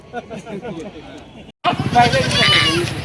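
Kathiyawadi goats, including pregnant does, bleat loudly and close by at a goat sale. Someone talks over the first half, then a noisier stretch of overlapping bleats follows a brief cut.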